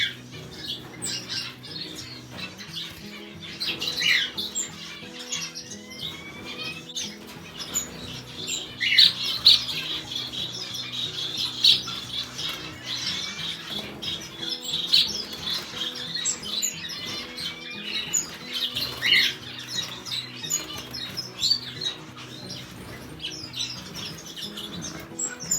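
Blue-faced parrot finches squawk and chirp continuously in an aviary, a dense busy chatter of high calls with occasional wing flutters, steady and close with no pauses.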